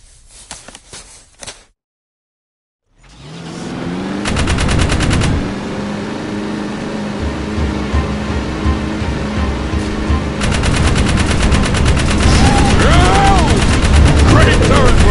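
Turret gun firing in the Jak 3 video game, loud sustained rapid bursts of automatic fire after a brief silence, layered over roaring vehicle and battle noise, with a pause midway before the firing resumes.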